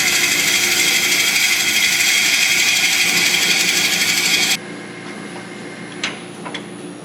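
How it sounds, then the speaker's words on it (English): A power drill whines loudly and steadily at close range, boring a depth hole into a pecan wood goblet, then cuts off abruptly, leaving a faint hum and a couple of small clicks. "I'm going to go ahead and do my depth hole drill"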